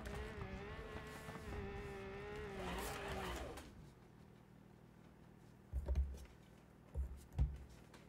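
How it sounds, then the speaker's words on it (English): Car driving over sand dunes in BeamNG.drive, a steady engine drone with tonal whine for about four seconds, then quieter with a few short thumps and bumps as the car lands and jolts. "you're just driving through the sand dunes"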